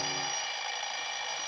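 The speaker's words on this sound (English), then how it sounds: "When I got home, I set my alarm for 5 the next morning." An alarm clock ringing as a sound effect in a 1948 old-time radio mystery drama, a steady continuous bright ring held at even loudness throughout, alone with no voices.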